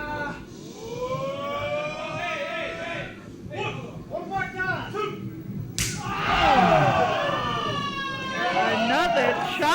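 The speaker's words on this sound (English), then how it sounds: "Listen to this bloodthirsty crowd. They're not satisfied. They want more." At a ProSouth Wrestling event, the arena crowd shouts and jeers around a chop in the ring, loud rising yells swelling over play-by-play commentary.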